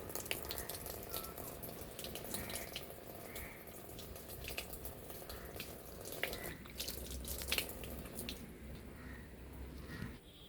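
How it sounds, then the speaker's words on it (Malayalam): Water pours steadily and splashes into a pot of soil and cow dung, a close trickling wash with small drips and squelches throughout. "ഇനി ഇതിലേക്ക് ഞാൻ വെള്ളം ഒഴിച്ചു കൊടുക്കുകയാണ്"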